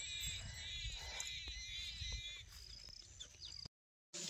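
Goats bleat in quick, wavering cries at a farmyard, close and fairly clear, over soft rustling and background noise before a brief silence.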